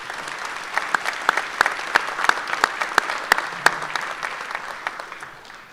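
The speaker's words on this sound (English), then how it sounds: "Let's give them a round of applause," Audience at a 2021 high school graduation ceremony applauding the graduates, a steady sustained clapping from a large crowd with scattered sharper claps standing out, fading slightly toward the end.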